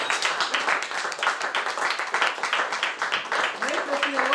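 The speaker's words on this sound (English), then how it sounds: "Keep clapping!" Brisk audience clapping at a lively party rattles on without pause, loud and near, with cheering voices mixed in and a brief shout toward the end.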